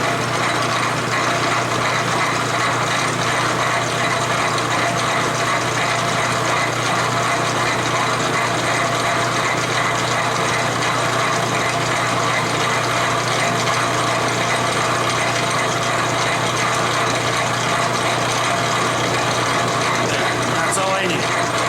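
A miniature metal tap holder has its edges chamfered in a small machining setup. The cutting makes a loud, steady, dense grinding whir with no breaks, and a voice talks over it.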